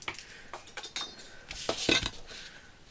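Card being cut with scissors for a handmade Mother's Day card: a handful of sharp, close snips and light metallic clicks, irregularly spaced, with no voices.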